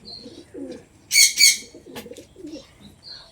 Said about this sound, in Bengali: টোটাল পায়রা কীভাবে উঠছে কীভাবে পায়রার চালটা এসছে